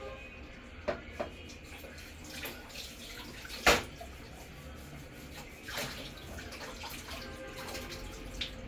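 A household water tap runs in a steady soft stream, with a few louder clatters and splashes scattered through it, heard close with no talking.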